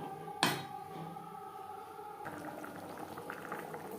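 Jackfruit curry gravy bubbles in a pot, a quiet, steady simmering burble that follows a single sharp clink near the start.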